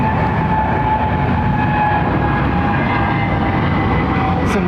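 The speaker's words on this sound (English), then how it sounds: "from Singapore Airlines, the A380-800." Singapore Airlines Airbus A380-800 with Rolls-Royce engines at London Heathrow Airport, a loud, steady, continuous jet engine roar with a faint high whine, no voices.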